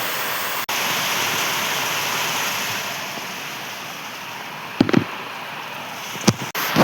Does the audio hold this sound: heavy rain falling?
yes